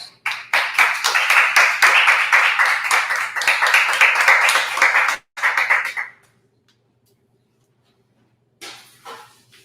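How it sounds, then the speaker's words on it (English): Applause and clapping for Chef Carlos Pineda at the Gilroy Chamber of Commerce Spice of Life Awards, a dense burst of hands lasting about five seconds, then a short second flurry that dies into quiet before a few faint later claps. "So can we get one more round of applause for our very own Chef Carlos?"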